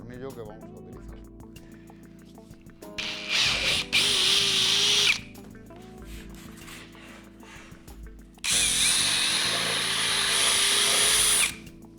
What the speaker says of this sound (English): Now we use a 10 mm, 3/8 drill bit, which is the diameter of the screw that we are going to use.